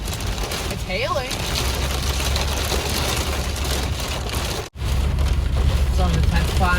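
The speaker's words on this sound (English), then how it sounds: "It's hailing." Hail pelts down during a storm chase, a dense, steady hiss and patter close by under a rumbling vehicle, with a voice talking and a brief cutout partway through.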